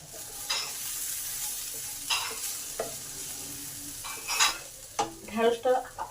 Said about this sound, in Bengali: এইভাবে কিছুক্ষণ ছাড়া ছাড়া ভিন্ডি আর আলুটাকে নাড়াচাড়া করে সবজিটা করে